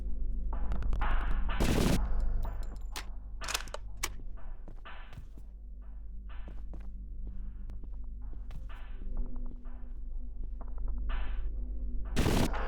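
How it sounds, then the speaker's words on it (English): Gunfire in the retro shooter game Zortch: several loud bursts of shots at irregular intervals over a constant low electronic hum, with smaller clicks and game effects scattered between. "Who's shooting?"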